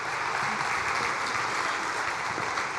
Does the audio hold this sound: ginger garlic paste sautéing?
no